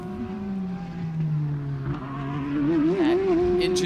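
A GT race car's flat-crank 5.5-litre naturally aspirated V8 roars at about 150 mph at Sebring International Raceway, its pitch sliding down and then climbing with a warbling edge as it gets louder toward the end.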